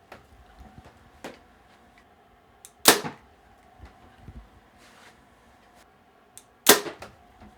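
Mathews Lift RS compound bow, a 2025 model drawn at 55 pounds and 29 inches, shot twice: each release gives a sharp, close snap with a brief buzzing decay, separated by soft clicks and quiet handling noise.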